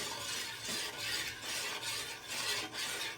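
Chhena (fresh cottage cheese) is stirred for mango rasgulla, giving a faint, rhythmic scraping and rubbing with steady back-and-forth strokes about twice a second, close by.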